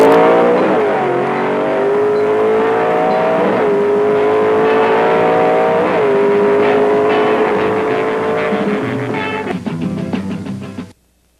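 A 427 Ford Thunderbolt drag racing car engine roaring loudly and close, pitch climbing through several gear shifts in a sustained howl before cutting off abruptly near the end.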